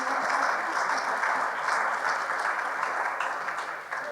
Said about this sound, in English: So please, a round of applause for our speakers.